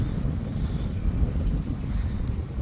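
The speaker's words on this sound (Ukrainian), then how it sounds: "бо дуже сильний тут вітер" Strong wind buffets the microphone with a constant low roar and rumble, loud and unbroken throughout, with no voices.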